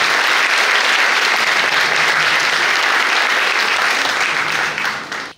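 An audience at a concert applauds loudly and steadily, a dense close wash of clapping that holds evenly and then tapers off at the very end.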